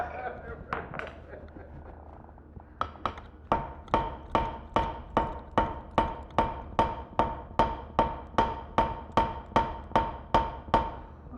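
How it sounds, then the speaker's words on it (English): A blacksmith at a smithing conference forges metal petals with a fullering hammer, striking in a steady rhythm of sharp ringing blows after a few scattered opening taps, close and loud, with faint background voices. "so this one's all just fuller petals, just using a different hammer"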